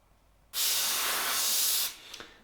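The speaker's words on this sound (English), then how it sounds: "Now I can start with the airbrush artwork, and I spray a light shadow around the chameleon to give it a 3D effect" An airbrush sprays paint onto a carbon bike frame in one steady, close, bright hiss lasting about one and a half seconds that starts abruptly and tapers off, followed by a couple of faint taps.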